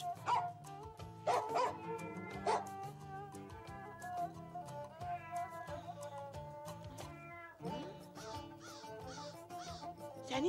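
A person imitates a dog, giving a run of short, voiced bark-like yelps and whines in uneven bursts, close and fairly clear, with a brief pause partway through.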